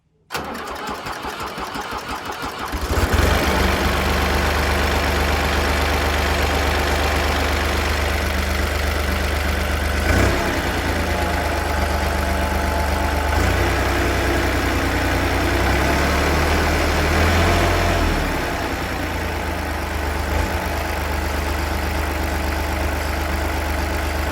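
A Fiat crawler tractor diesel engine, freshly fitted with a Bosch VE injection pump, cranks briefly, then fires and settles into a loud, steady idle with slight changes in pitch.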